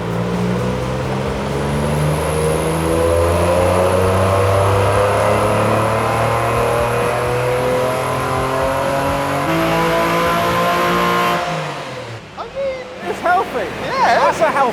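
Porsche 996 revving hard on a dyno, a loud sustained engine roar with rising harmonic sweeps that holds for about eleven seconds, then cuts off abruptly into quieter clatter and voices.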